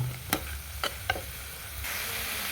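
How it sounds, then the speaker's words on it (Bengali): Chopped onion being stirred in a cooking pot while chicken momo filling or soup is prepared, giving a few distinct scraping taps over a steady low background hiss, with no talk. "এবার এতে দিয়ে দিচ্ছি অল্প করে পেঁয়াজ কুচি, একটু নাড়াচাড়া করে"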